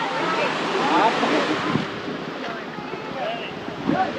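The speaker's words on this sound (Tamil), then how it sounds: "இந்த ஃபால்ஸ் வந்து சின்னதாக இருக்குது" Steady rushing water from a small waterfall at Kundaru Dam near Courtallam fills the scene, a broad continuous splash close by, with breezy wind buffeting underneath.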